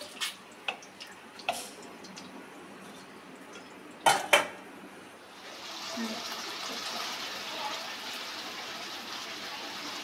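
Fried eggs being lifted out of a frying pan with a utensil, a few sharp metallic clinks and scrapes against the pan followed by a steady soft sizzle of oil, close and moderately loud.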